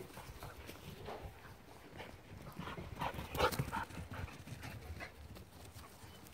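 Faint panting and light scuffling of puppies close by, with soft snuffles and a brief rustle in the middle.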